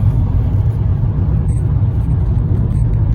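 A car on the road to the airport gives a steady, loud low rumble of engine and tyres inside the cabin, unbroken and even from start to finish.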